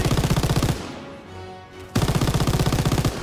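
A machine gun fires in loud, rapid bursts during a D-Day battle in a video game, a long rattling burst, a brief lull with a low rumble, then another sustained burst, close and alone.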